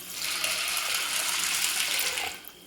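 Water pours steadily into a vessel of rajma beans to cover them for soaking, a close, continuous gushing splash that tapers off at the end.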